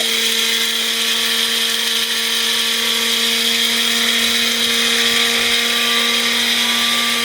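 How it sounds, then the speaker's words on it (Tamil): A newly bought bullet mixer grinder runs steadily, grinding pepper with a loud, continuous high-pitched motor whine that holds without pause for the whole stretch, alone with no talk. "பாருங்கள், விட்டாச்சு, அது வாட்டுக்கு அரைக்குது"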